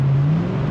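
A 240-horsepower Corvette C4 engine holds a loud, steady, close rev as the transmission kicks down under throttle, a brief sustained drone with no talking.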